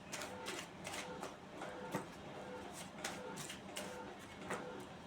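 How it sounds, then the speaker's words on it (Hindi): Tarot cards shuffled by hand at close range: a continuous run of soft papery rustles and light slaps, with no talking. "तो मैं आपके कार्ड्स शफल कर लेती हूँ।"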